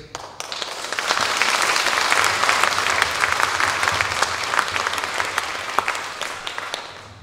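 A concert audience gives sustained, loud applause for a folk choir at its 70th-anniversary celebration, with dense clapping that swells quickly after a brief start and holds steady throughout.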